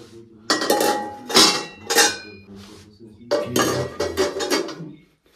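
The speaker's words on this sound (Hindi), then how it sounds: "अभी जो है ना वो बर्तन धो के खत्म किए" Freshly washed steel dishes, pots and pans clank and clink together in a home kitchen in several loud bursts, with short pauses between the handling.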